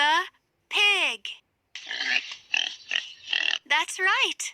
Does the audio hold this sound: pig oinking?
yes